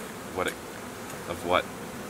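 Honeybees at an opened apiary hive give brief, faint buzzes as a couple of insects fly past close by against a quiet background.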